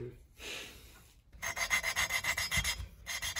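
A soft, rhythmic rasping scrape repeats back and forth in quick strokes as an engine valve is lapped with fine grinding compound, close and fairly quiet, after a short hiss and a pause.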